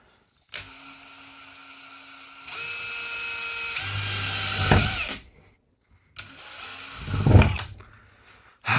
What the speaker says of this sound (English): this will be the very first hole I've ever drilled into a vehicle.